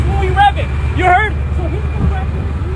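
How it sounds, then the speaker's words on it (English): A vehicle's diesel engine runs on plastic-derived diesel fuel, a steady low idle rumble beneath people talking nearby. "Here we are running on plastic diesel."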